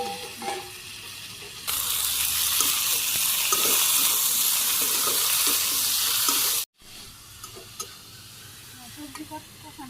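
Mixed vegetables fried with spices in a pan on a village stove, a loud steady sizzle that starts suddenly and cuts off, with quieter stirring clatter before and after.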